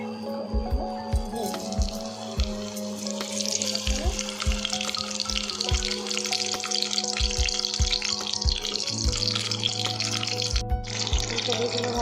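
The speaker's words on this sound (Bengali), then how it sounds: "ফুলকপিগুলো ভাজা হয়ে গেছে" Cauliflower florets sizzle and crackle steadily in hot oil in a pan, a dense continuous frying hiss with occasional low knocks of utensils, no talking.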